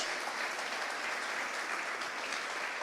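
Broad, sustained applause from a church congregation fills the space, dense and even throughout, heard at moderate distance without speech on top.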